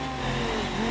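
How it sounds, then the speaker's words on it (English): A small rally car in the BeamNG driving game revs its engine on a dirt course, a steady, loud, continuous engine drone with a sustained tone throughout and no talk. "Little rally car."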